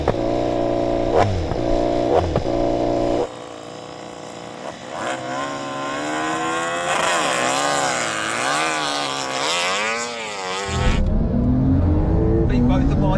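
A KTM RC16 and a KTM 1290 Super Duke R Evo race a Porsche 911 Turbo S in a straight-line drag race. Engines rise in pitch through several gear changes, loud and sustained, then the sound drops away sharply at the finish.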